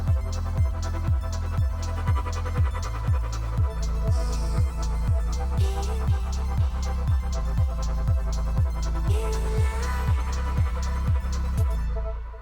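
Electronic track made in Bitwig, with an LFO following pitch to gate the volume: a steady pulsing low-end throb repeating in even, rhythmic stabs over a dense synth bed, loud and continuous with no voices.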